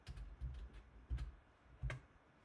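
A computer keyboard is typed on in short, soft bursts, with a few separate clusters of keystrokes heard close and quiet.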